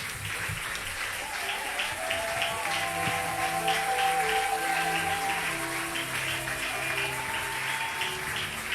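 A church congregation at an evangelical evening service claps in praise, with a steady, even patter of hands over soft sustained music tones and a faint voice underneath, held at a moderate level throughout.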